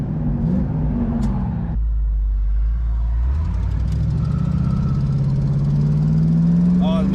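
Ford Mustang 5.0 Foxbody drag racing, its engine rumbling low and then rising steadily in pitch as the car launches, heard fairly close and loud.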